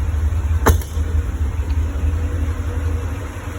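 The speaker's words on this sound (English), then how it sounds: "you said the fuel injectors are loud" A Porsche 928 S4 idles with its fuel injectors audibly loud: a steady, close, low engine hum with a faint rhythmic ticking pulse and one sharp click early on, with no talk.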